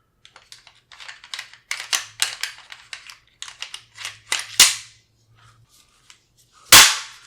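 The bolt carrier of an M+M M10X AK-style rifle is dropped into place and the receiver closed: a run of small metallic clicks and rattles, then two loud, sharp metal slams a couple of seconds apart, up close.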